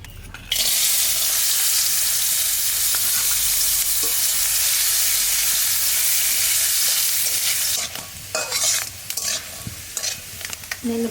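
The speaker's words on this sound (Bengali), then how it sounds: "বাদামটা একটু ভাজকে নেব।" Peanuts fry and get stirred in a pan with a loud, steady sizzle that fills most of the clip, then break into choppier scraping and rattling stirs near the end.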